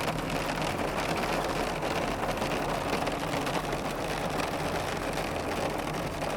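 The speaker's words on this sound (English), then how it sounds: "we got some crazy hail" Hail mixed with rain drums densely and evenly on a vehicle during a rainstorm, a loud unbroken patter with a low engine rumble underneath.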